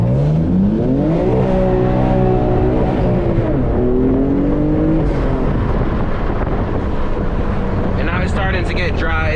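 A manual BMW M3 drifting and doing donuts on worn tires, the engine droning loud and constant with rising and falling revs, heavy wind rumble on the microphone, and a brief tire squeal near the end.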